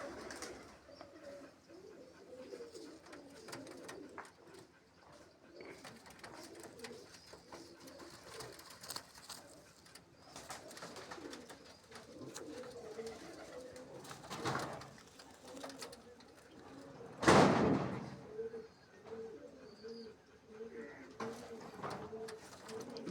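Pigeons coo in soft rolling phrases around a loft, near and fairly quiet, with a sharp knock or clatter partway through and faint background noise.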